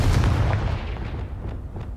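Confringo fire spell blast cast in the video game Hogwarts Legacy, a loud booming burst at the start that rumbles and fades over two seconds, with no talk.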